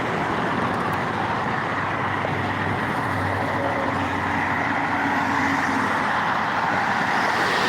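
Cars and trucks pass steadily on a road at a red-light intersection, a continuous broadband traffic roar with no gaps and no voices.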